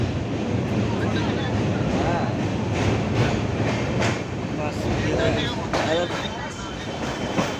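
A passenger train on the Kolkata to Haridwar route rolls into Varanasi Junction station, its wheels clattering steadily under a constant rumble with intermittent clanks, heard from inside the carriage.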